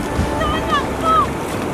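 Ocean surf at Pantai Batu Ulai beach makes a steady, loud broadband roar, with wind buffeting the microphone and a few faint whistling tones.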